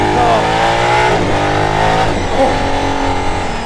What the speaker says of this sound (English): This engine just wants to rev.